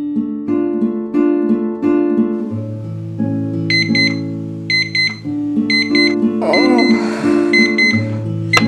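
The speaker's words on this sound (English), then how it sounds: "My alarm! It went off late!" Cartoon alarm clock ringing in a My Little Pony morning scene, a series of repeated electronic beeping bursts over a melodic musical tune, loud and close.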